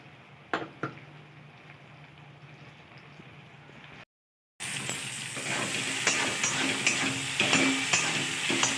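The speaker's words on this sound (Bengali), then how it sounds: "এবার ভালো করে আমি ভেজে নেব" Onion peel paste sizzles in hot oil in a pan, a soft frying hiss with a few early clinks, then after a brief gap a louder, steady sizzle with stirring scrapes.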